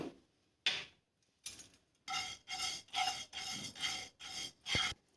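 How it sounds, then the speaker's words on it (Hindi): Cumin seeds dry roasting in a pan give a series of close, rasping scrapes, about eight separate strokes in an uneven rhythm, with quiet pauses between them. "अब हम 10 ग्राम जीरा भूनेंगे।"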